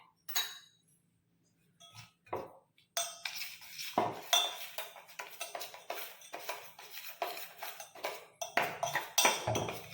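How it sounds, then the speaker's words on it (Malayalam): A metal spoon stirs strawberry jelly mix in a bowl, clinking and scraping against the sides in quick, uneven bursts after a few isolated taps, close and fairly crisp. "നമുക്ക് ഇളക്കാം."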